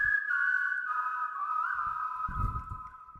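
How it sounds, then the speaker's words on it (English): Human whistling layered and panned to sound like a crowd whistling a sustained melody together, clear and upfront, with a few soft thumps near the end. "panned it left and right so it sounds like a crowd is whistling"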